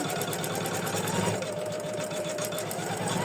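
An embroidery machine stitches a lavender lace ornament in the hoop with a steady, close mechanical whir and a fast, even needle rhythm that runs throughout.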